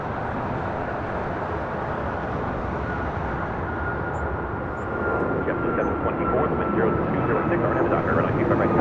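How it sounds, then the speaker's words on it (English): An Alaska Airlines Boeing 737 MAX 9 departs from runway 25 right on the south side of LAX, its loud jet roar swelling about halfway through into a heavier, louder rumble. "Alaska Airlines flight 1442, a 737 MAX 9, our next departure here on the south side at 25 right"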